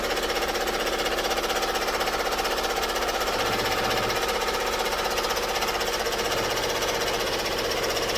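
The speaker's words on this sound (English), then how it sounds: "now it's going to sew around it about 5 times" Embroidery machine stitching around a zip bag in the hoop, producing a fast, steady mechanical chatter of needle strikes that runs continuously and loud throughout.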